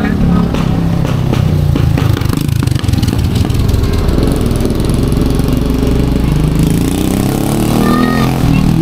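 A motorcycle engine runs steadily on a street in Giporlos, Eastern Samar, in light drizzle, giving a loud, close, continuous rumble with no pauses for the full length.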